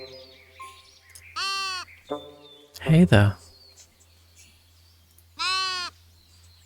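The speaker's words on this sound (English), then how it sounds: "I'll stop bothering the sheep now." Sheep bleat in the cozy building game Tiny Glade: two clear, wavering bleats a few seconds apart, close and moderately loud, with a brief voice speaking between them and a soft ambient game background.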